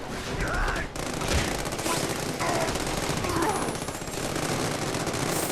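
Rapid bursts of SWAT gunfire from The Amazing Spider-Man 2 video game rattle steadily throughout, dense and fairly loud with a brief dip near the start, under continuous game ambience.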